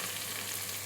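Finely chopped onions fry in hot oil for a biryani garnish, giving a short, steady, close sizzle and crackle with no talking.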